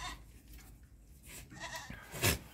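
Young dairy goat kids, Saanen, Nubian and Alpine breeds about three months old, bleat in a few nasal cries close by, the loudest call coming near the end.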